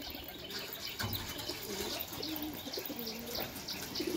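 Some of the roughly 200 pigeons at a Nadia district loft coo in low, wavering calls, repeated several times over steady background hiss and faint running water.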